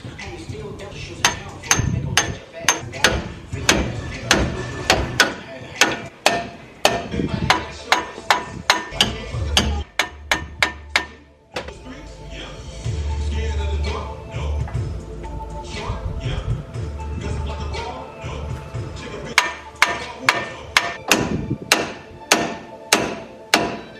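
A hammer striking a car ball joint during a ball joint replacement, repeated sharp metallic blows in rapid bursts, loud and close, pausing midway under a steadier mechanical rumble before the hammering resumes.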